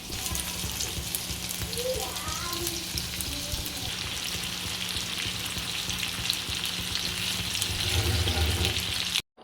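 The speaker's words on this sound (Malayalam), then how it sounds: "മറ്റേ അടുപ്പിൽ ചിക്കൻ പൊരിക്കാൻ വേണ്ടി വെക്കാവേ." Chicken fries in a pan on a stove, a loud, steady sizzle and crackle of hot oil that continues without a break, with faint kitchen clatter and brief low tones in the background.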